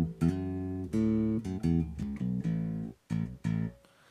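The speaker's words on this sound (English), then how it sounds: "So that's the sound from the Fender Bassman that I've created." Short-scale bass guitar played through a Zoom G1Four multi-effects unit on its Fender Bassman amp model, knobs fully up, giving a run of warm, sustained plucked notes with brief gaps, close and loud with no voices.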